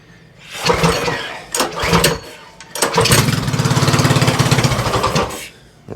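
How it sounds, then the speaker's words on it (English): A Predator 224 engine on a mini bike cranks on starter fluid, with rough recoil pulls and sputters that catch into a brief uneven chugging run before dying back down. "we'll see if it'll at least kick over with some starter fluid"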